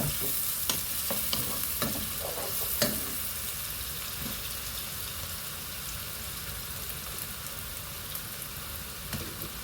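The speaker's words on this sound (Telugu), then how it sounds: "ఉల్లిపాయలు బాగా వేగాలండి, వేగితేనే బాగుంటుంది అన్నమాట" Onions fry in a pan for a Punjabi-style palak paneer curry, giving a continuous close sizzle with several sharp spoon scrapes and clinks early on before settling into a steady hiss.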